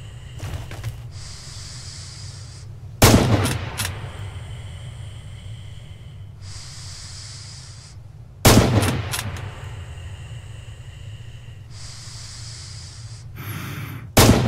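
Rifle gunfire in the World War II shooter Red Orchestra 2: Heroes of Stalingrad. Three sharp, loud single shots ring out several seconds apart, each with a short decaying tail, with heavy breathing and gasps in between.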